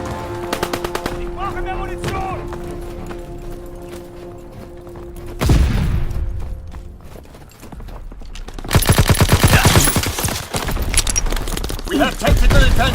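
Call of Duty gunfire on PS4 Pro: bursts of rapid machine-gun fire and single shots crackle with echoing booms, loud and close, alternating with quieter stretches of in-game radio chatter and tonal beeps.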